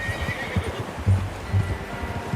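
A horse in Red Dead Redemption 2 snorts and whinnies in short low bursts close by, with soft hoof clops and a steady outdoor ambience underneath.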